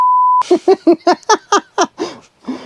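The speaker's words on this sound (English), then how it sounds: "I'll beep it out" A steady high-pitched censor beep sounds briefly, then cuts off as a person breaks into rhythmic, pulsing laughter nearby.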